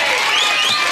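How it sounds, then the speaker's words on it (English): A short burst of people clapping together, a dense steady patter of applause from a small group, heard close with no talk over it. "Let's all clap like he can no longer do."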